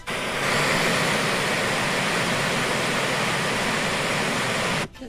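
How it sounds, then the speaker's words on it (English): Loud, steady broadband white noise filling the space evenly, like a constant rushing hiss, running unchanged for about five seconds before cutting off abruptly. "That's just like white noise, right?"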